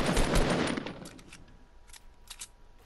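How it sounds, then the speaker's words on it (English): Gunfire aimed at the player in a battle royale game: a loud burst of rapid close shots at the start, then fainter scattered cracks and pops from farther away. "I'm getting shot at."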